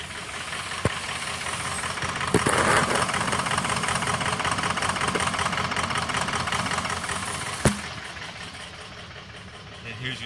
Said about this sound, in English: Now we have 1, 5, 3, and 7, and the engine barely running.